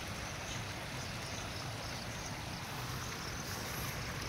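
Strong floodwater rushing along a rural farm path, a dense continuous roar and hiss of flowing water, close and steady throughout with no talk.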